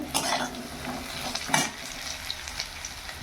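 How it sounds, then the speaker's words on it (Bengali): Potatoes dropped into hot oil, crackling and sizzling up close with a few sharp spatters and light pan scrapes over a steady frying hiss. "এই আলুগুলো তেলের মধ্যে দিয়ে দেবো বন্ধুরা"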